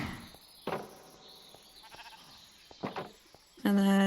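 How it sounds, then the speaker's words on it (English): Sheep in a modded Minecraft survival game bleat in short bursts at intervals, followed by a loud, sustained tonal sound at the end. "I'll put the sheep outside for now."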